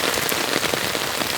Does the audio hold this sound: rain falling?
yes